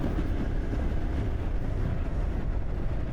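Royal Enfield Scram 440 motorcycle on a highway, its exhaust note a steady, loud, continuous low rumble with wind roar while overtaking, no talk.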